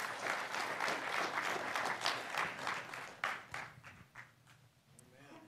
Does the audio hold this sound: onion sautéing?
no